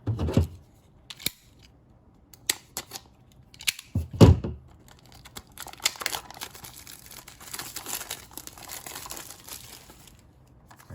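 Wireless lavalier microphone set for iPhone being unboxed: scattered crinkles, snips and rustles of packaging at close range, with a sharp tearing burst near the middle and soft handling noises, no talking.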